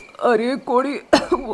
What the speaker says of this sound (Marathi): जोर जोरात खोकायला लागतात